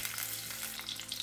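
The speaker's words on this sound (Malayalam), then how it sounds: "ആദ്യം വെളുത്തുള്ളി ചേർത്ത് വഴറ്റാം" Garlic sautéing in hot oil in a pan, a faint, even crackling sizzle that holds steady for a moment without any talking.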